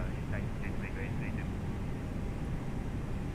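Philippine Airlines Boeing 737 jet preparing for takeoff, a steady loud broadband engine roar filling the cabin, with a brief series of faint tonal chimes early on and no clear talk.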